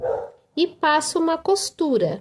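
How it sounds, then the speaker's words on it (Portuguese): A restless, excited female dog gives a short bark near the start, then someone speaks over the quieter background, with the dog noise blending into her talk. "desculpa o barulho da cachorra, tá alvoroçada hoje."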